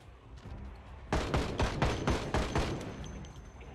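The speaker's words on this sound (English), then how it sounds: "I fired like, what, 5 bullets and it jammed?" In a survival video game, a gun fires a short burst of about five or six loud, rapid shots, then cuts off as the weapon jams, leaving quiet background noise.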